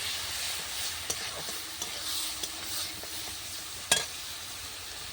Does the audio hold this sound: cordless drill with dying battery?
no